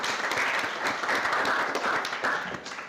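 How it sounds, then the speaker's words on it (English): Applause at an engineering conference's valedictory session in Delhi, a dense continuous roll of clapping from a sizable audience, steady and full for the whole stretch. "big applause for him."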